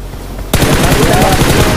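Gunfire in a battle royale video game: a sudden loud burst of rapid automatic shots starting abruptly after a brief quiet moment and continuing to the end.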